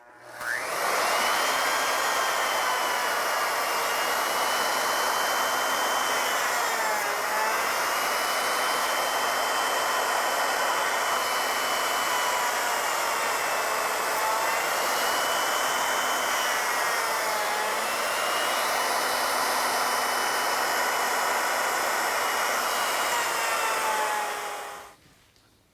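A router cuts back and forth across wood stock in shallow plunge passes, its high motor whine loud and steady for most of the time, with brief pitch dips as each pass changes direction, stopping abruptly at the end.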